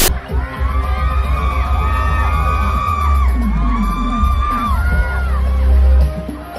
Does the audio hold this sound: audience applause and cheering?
yes